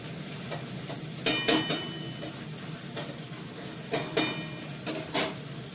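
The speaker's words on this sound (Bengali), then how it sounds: "আমি এটা করার মধ্যে ছড়িয়ে ছড়িয়ে দিয়ে একদম ঝরঝরে করে ভাজা করে নিই।" Cabbage stir-fried in a pan gives a low sizzle under repeated scraping and clinking strokes of a spatula against the pan, in irregular close bursts with no talk.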